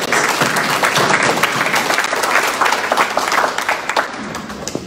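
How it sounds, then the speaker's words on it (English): Audience at a 2021 council candidate forum claps for the candidates, a lively, uneven round of applause with distinct individual claps standing out, fairly loud and fading slightly toward the close. "A big round of applause for these folks."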